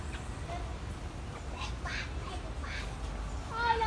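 Ducks quack a few times at a distance in a park over a steady low rumble of outdoor background noise, with brief bird calls scattered through.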